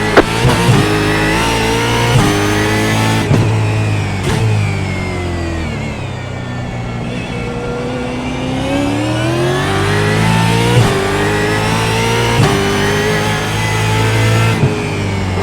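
V8 Supercars race around Sonoma in the iRacing video game, loud engines revving and accelerating with repeated gear shifts and changing pitch, alone without talk.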